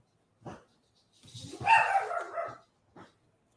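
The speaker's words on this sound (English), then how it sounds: "Fireworks are going off. That's why my dogs are barking." Dogs bark and whimper at fireworks going off outside, a short yip, a longer burst of barking in the middle, then a final brief yelp, heard close and alone.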